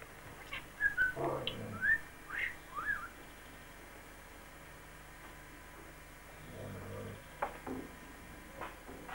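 Dogs whimper and yip in short, high, whistling cries, a few scattered bursts early on followed by quieter stretches and a low murmur later, fairly faint and without speech.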